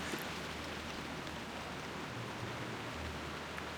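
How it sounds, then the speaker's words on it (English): Faint, steady rushing wash like heavy rain or flowing water in the World of Warcraft game's blood rain setting, a continuous hiss with no breaks. "Why do I hear, like, rushing water? Is that, like, the blood rain?"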